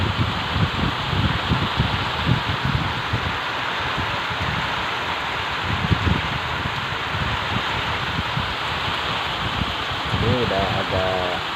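Heavy rain driven by strong southerly wind makes a steady, dense rushing roar with gusty buffeting throughout, and no voices are heard.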